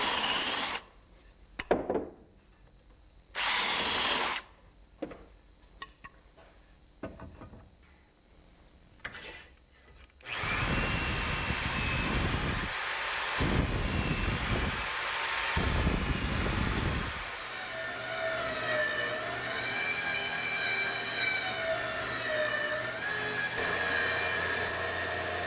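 Tenon cutter driven by a power drill shaping the end of a log handrail rail, first a few short bursts of whirring with pauses, then a long, loud continuous grinding cut of rough wood with shifting pitch.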